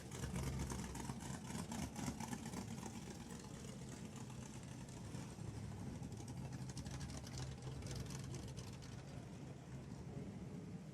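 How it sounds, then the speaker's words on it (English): Street rods roll in at the Street Rod Nationals, a continuous low engine rumble with light revving that stays steady and moderately close under general crowd ambience. "I'm going to let you guys watch a few more cars come rolling in because here they come"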